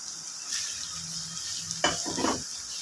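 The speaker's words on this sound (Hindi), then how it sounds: "तो इस टाइम पे आके जनाब अब हम इसमें डालेंगे भिंडी।" Okra goes into a pan of minced meat masala cooked with yogurt. A soft, steady sizzle is joined near the end by brief stirring and scraping noises, with no talking.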